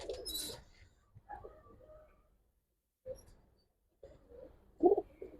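Close, low coos from Giribaz pigeons at a pigeon sale arrive in several short bursts with quiet gaps between them, ending in a louder burst.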